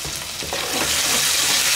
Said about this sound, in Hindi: तो देखिए मसाला थोड़ा सा भून चुका है